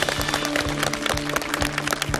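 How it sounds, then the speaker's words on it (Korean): A Korean television studio audience claps steadily, a dense, even patter of many hands that carries on throughout without fading. "감사의 박수를 드리겠습니다."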